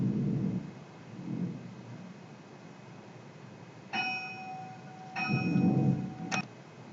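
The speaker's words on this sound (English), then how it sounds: "Apologies for the bell." A bell rings in a few bright, ringing strikes with lingering overtones, set against a soft background hum and low muffled noise, with no talking.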